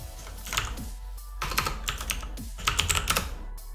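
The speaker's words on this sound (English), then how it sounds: "my typing" Rapid clattering keystrokes on a computer keyboard come in three bursts with brief pauses between, close and fairly quiet, with no voices.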